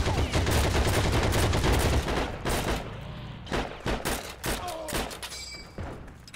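Rapid bursts of video game gunfire from Heroes and Generals, a dense fusillade of loud close shots for about three seconds, then scattered single shots and thuds trailing off.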